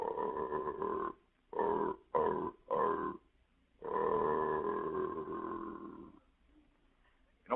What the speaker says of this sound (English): That was the same mating call, only played backwards and slowed down.